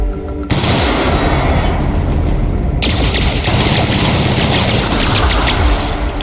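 Loud, continuous gunfire and booming impacts fill a boss fight in The Outer Worlds. The barrage stays sustained and heavy throughout after a brief lead-in, with no talk.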